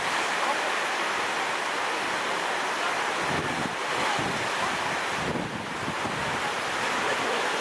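Sea waves wash onto the coast at Władysławowo, a steady broad roar of surf with wind buffeting the microphone throughout, swelling slightly in the middle.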